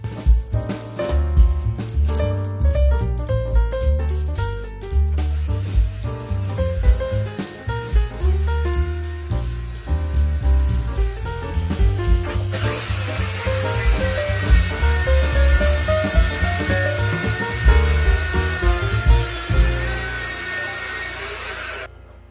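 A hole saw chews through wood while making a fence clamp for a drill press, starting with rhythmic gritty bursts before settling into a sustained, loud whining cut with a bright high tone, close up and continuous.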